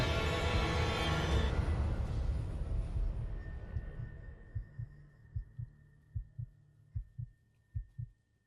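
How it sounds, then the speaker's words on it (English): Film heartbeat sound effect: after a fading dense musical swell, slow deep low thumps emerge alone in near silence, a steady series of paired heartbeats growing distinct and evenly spaced. "The silence and just the heartbeat."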